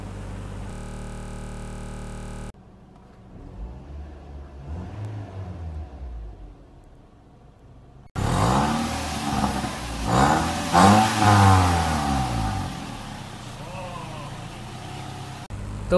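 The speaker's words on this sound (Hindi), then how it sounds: "और अब आपको इस गाड़ी का साउंड टेस्ट करवाएंगे" Toyota Corolla GLI 1.3 engine revving for a sound test, a steady tone first, then mid-pitched rising and falling revs that grow louder and closer in the second half, with some talk over it.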